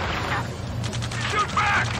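Gunfire in the Ace Combat 7 video game, a dense crackling fusillade of rapid shots under game music and radio chatter, loud and continuous.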